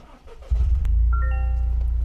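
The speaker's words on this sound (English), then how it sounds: "you can hear it has a really deep exhaust noise when this vehicle starts up" A 2023 Toyota GR Corolla hot hatch cranks and fires up about halfway in, its deep exhaust settling into a loud, steady low rumble at idle, close to the listener with no talk.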